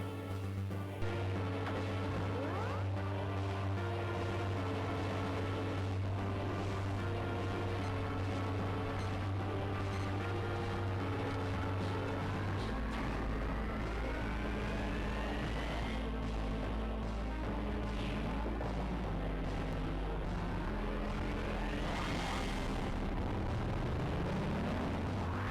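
Metroid Zero Mission game audio as Ridley's ship is destroyed during the escape, with rumbling explosions layered under loud droning music and sweeping tones, continuous and dense throughout.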